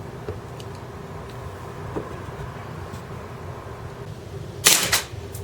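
A KWC Taurus PT99 CO2 airsoft pistol fires a 0.2 gram BB in one sharp, short crack near the end, over a low, steady background rumble.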